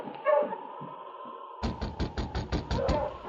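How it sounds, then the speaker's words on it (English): A run of about eight sharp knocks on a wooden cabin door in an old radio drama, rapped in a quick steady rhythm, following a brief stretch of muffled background sound. "She may be over there, but we'll knock here first."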